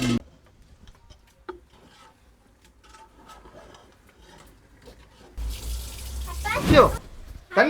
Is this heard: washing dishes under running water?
yes